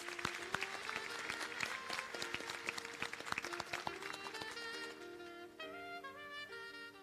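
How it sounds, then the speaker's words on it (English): Scattered applause greets graduates at a business studies academy graduation ceremony in the Seychelles, individual claps sharp and distinct before thinning out as music with sustained tones takes over toward the end. "Please give a round of applause to our graduates."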